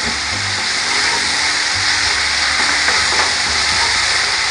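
Leftover rice fries loudly in a pan with soy sauce added, a dense steady sizzle and hiss carrying faint scraping stir strokes throughout.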